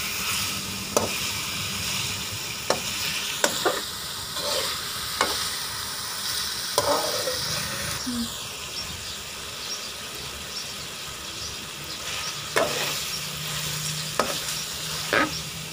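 Masala with three whole dried red chillies frying in a pan, a constant loud sizzle with periodic scrapes and taps of a spoon stirring, no voices.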